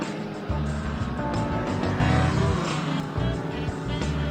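Racing cars roar at the United States Grand Prix at Sebring, engines droning loudly and steadily with rising and falling passes, in an old, somewhat muffled recording.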